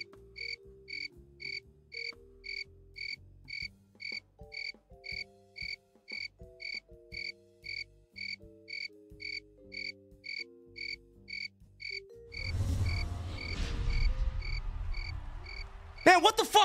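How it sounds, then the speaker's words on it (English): Cricket-like chirping in an event venue: a steady train of evenly spaced, high-pitched pulses runs throughout over low tonal notes, then a loud, noisy burst swells near the end. "Why do I hear crickets in the venue?"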